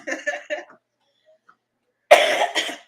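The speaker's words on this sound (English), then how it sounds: "I still got a bit of a cough" A short burst of several harsh coughs, followed by silence and then another rough, throaty cough close to the microphone.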